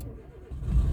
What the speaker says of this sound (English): Will the car still start?